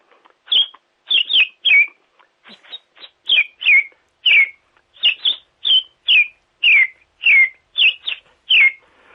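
A person whistling an imitation of house sparrow chirps: a long series of short, bright, clipped cheeps in loose rhythm, close and clear with no other sound.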